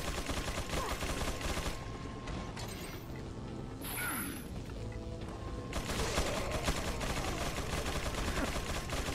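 Gunfire in Resident Evil 4 on an island, rapid bursts of shots in a dense, loud stretch, broken by a brief lull before the firing resumes.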